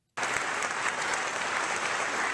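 Loud, dense applause from a crowd at a political gathering over concealed carry laws bursts in abruptly and holds steady, with no voices over it.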